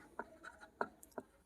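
Pen scratching on paper while an answer is written by hand during a math lesson, three or four short distinct strokes close up and fairly faint.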